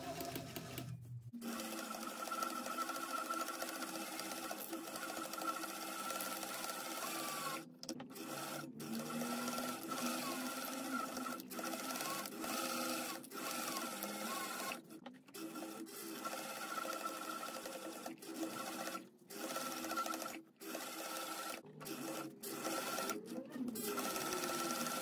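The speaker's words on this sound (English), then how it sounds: "So what I'm just going to do now is sew both edges with a 3/8 of an inch seam allowance" A sewing machine stitching the edges of a fabric bag, its motor running in a steady, fairly quiet whirr through long runs, broken by several brief stops and restarts.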